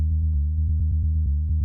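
Synth sound from a remake of The Prodigy's Breathe, played without EQ boost: a buzzy, bass-heavy tone pulsing in a quick steady rhythm, dry and alone.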